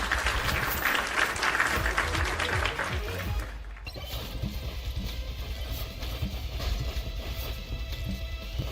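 A dense applause sound effect of clapping and crowd noise plays for a few seconds during a livestream, then cuts off abruptly into a steady, noisy background.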